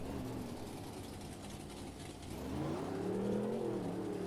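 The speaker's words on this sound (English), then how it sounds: "you hear the Hall brothers' horsepower as he hits that van stack and gets a lot of air off of it" A monster truck, the Executioner at a Monster Jam freestyle in Philadelphia, revs hard on the throttle with a steady loud engine roar that climbs in pitch and volume about halfway through as it hits a van stack.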